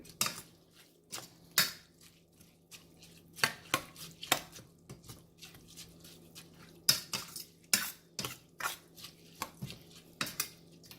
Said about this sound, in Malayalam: ശേഷം നല്ലപോലെ ഇളക്കി കൊടുക്കണം. ഫ്ലെയിം മീഡിയം ഫ്ലെയിം ആയിരിക്കണം.